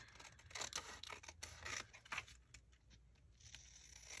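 Scissors cut through paper for a pocket-page crafting project. Several faint, close snips and rustles come in irregular bursts, then the sound trails off into quiet handling.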